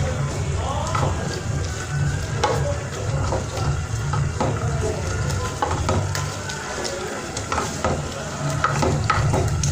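Rinsed and drained banana flowers tumble into a hot pan and sizzle steadily, with a utensil scraping and stirring through them in repeated strokes, a continuous frying hiss underneath, and a voice talking over the cooking.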